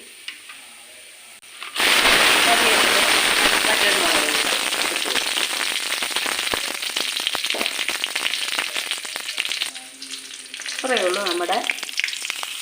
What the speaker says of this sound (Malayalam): കടു വെച്ച് കൊടുക്കാം സ്റ്റൗ ഓഫാക്കി